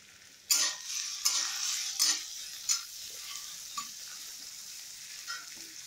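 Onions fry with salt in a pan, a soft continuous sizzle punctuated by several sharp scraping stirs that fade into quieter hissing, close and with no talking.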